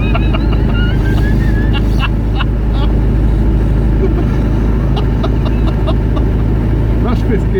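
A 1990 Range Rover two-door cruising in fifth gear at about 1500 RPM, a low steady engine drone with road and wind rumble from inside the cabin, with faint squeaks and rattles over it.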